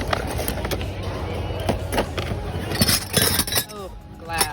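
Glass items clink and knock together as they are handled at a Goodwill bins store, with several sharp close taps scattered through busy background noise and people talking.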